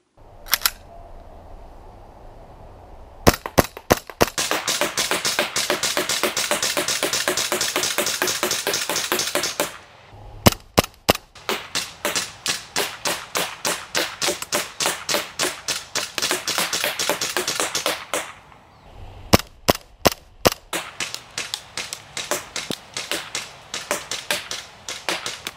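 Rapid bursts of shots from a WE XDM 4.5 pistol, sharp clicking reports in quick strings with brief pauses between volleys, close and loud with no talking.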